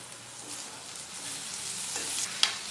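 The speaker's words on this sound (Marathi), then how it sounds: "कांदा तांबूस रंगावर भाजून घेतलेला आहे. अशा पद्धतीने कांदा भाजायचा, म्हणजे चव चांगली येते दाल फ्रायला." Onion sizzling in hot oil in a pan while being browned for dal fry, a steady close crackle with a brief louder pop near the end and no talking.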